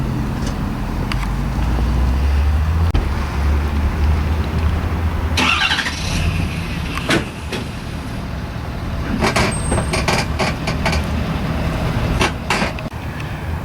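A vehicle pulling a multi-axle trailer up onto a 1.5 inch board, with a steady engine rumble throughout and several sharp knocks and clunks midway and near the end.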